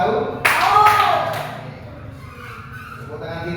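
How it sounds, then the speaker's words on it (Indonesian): A classroom of pupils clapping a short counted pattern, a few sharp bursts of claps close by and mixed with a voice talking. "Tepuk tangan dua tahu?"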